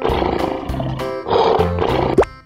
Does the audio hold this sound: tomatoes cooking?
no